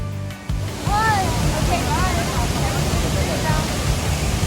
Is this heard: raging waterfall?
yes